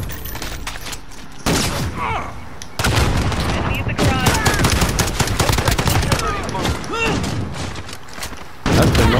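Rapid gunfire from the Call of Duty video game, dense bursts of shots and impacts running almost continuously for several seconds, with brief gaps and loud restarts.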